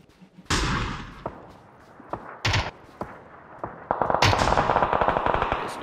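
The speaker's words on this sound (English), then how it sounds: "I'm being sniped at by God knows where" Gunfire in the shooter PUBG, with a few sharp single sniper cracks spaced apart, then a dense burst of rapid automatic shots near the end, all loud and close.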